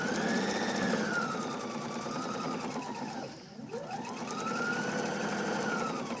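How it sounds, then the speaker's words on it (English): Sewing machine running steadily as it stitches quilt binding down, a continuous whirring motor hum with a brief slowdown midway before picking back up to speed. "sewing the binding down all the way across to where we started."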